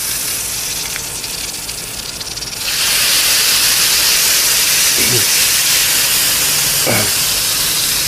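A small piece of battery dropped into water hisses and boils with a sudden loud, steady rush of fizzing that starts partway through and continues unbroken, with a couple of faint knocks underneath.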